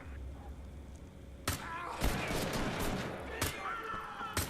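Gunfire in the video game Wolfenstein: The Old Blood, with headshots on heavy enemies: several sharp, booming shots over a dense rumbling game background.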